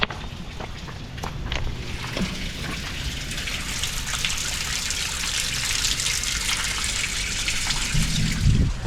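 Water flowing through a corrugated drainage pipe makes a steady, close rushing gush with bright trickling splashes, and it grows slightly louder toward the end.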